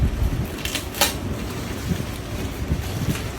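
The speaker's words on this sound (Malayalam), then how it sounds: "മഴയൊക്കെ ആണല്ലോ." Steady rain falls outdoors as a dense, even hiss, with a few brief louder gusts or splashes and no voices.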